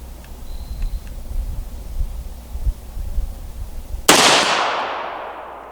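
A single loud rifle shot with 75/77 grain Sierra match ammunition cracks out after a quiet stretch of outdoor ambience, its blast decaying over the following second, with faint sounds of a steel target being hit in the distance beforehand.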